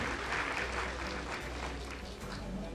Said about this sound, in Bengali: আরেকবার করতালি হোক ওদের জন্য।